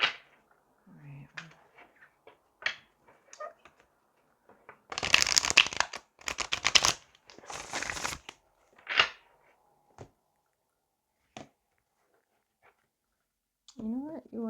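Tarot cards shuffled by hand in a few bursts of crisp riffling flutter in the middle, with scattered light taps and handling clicks around them and a brief bit of voice near the end.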